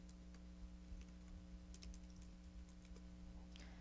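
Someone enters card data on a computer keyboard, with scattered soft keystrokes in quick bursts under a constant low electrical hum, and no talk.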